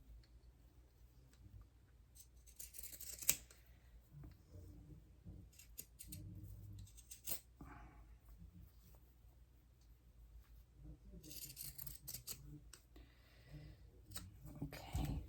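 Pinking shears snip through fabric while pajama pants are sewn, a few quiet, clicky cuts standing out briefly against a low room hum, with no talking.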